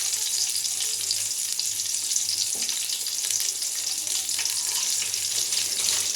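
Biryani spices and onions fry in a pan for a panasakaya (jackfruit) biryani, giving a steady, close hiss of sizzling oil throughout with a brief stir partway through, no voices.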